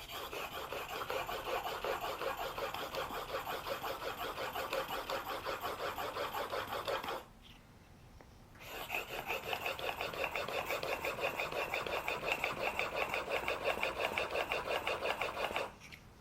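A spokeshave blade is rubbed back and forth on a sharpening stone in steady rhythmic strokes, close and fairly loud, with one brief pause partway through and no talking.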